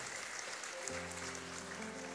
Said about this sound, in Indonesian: Tepuk tangan yang paling meriah bagi Allah kita.